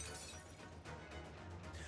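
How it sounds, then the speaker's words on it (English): A shattering crash from the Arknights video game, a burst of breaking glass-like fragments against a busy game soundtrack, moderately loud and brief. "she hears the sound of shattering"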